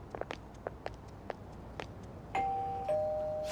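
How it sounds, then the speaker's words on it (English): Doorbell in the video game Persona 5 Royal, a two-tone ding-dong chime sounding after a series of soft footsteps and light taps. "You ring the bell."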